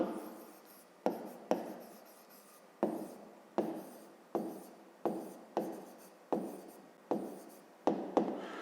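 Chalk writes on a board during a math lesson, about a dozen sharp taps each followed by a short scratchy stroke, in a steady rhythm in a quiet room with no voices.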